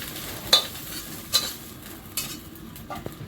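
Small okra frying with vegetable stems and potato in oil, a continuous close sizzle with three or four sharp clacks of the stirring spoon against the pan and no voices.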